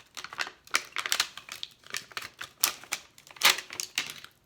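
Plastic packaging casing ripped off a small, cheap dollar-store plastic mirror, producing a close run of sharp crackles, snaps and clicks in irregular bursts.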